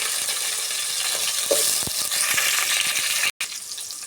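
Onion and green chillies fry in a pan of hot oil with tempering seeds for moong dal sambar, giving a steady, close sizzle and crackle that briefly cuts out near the end.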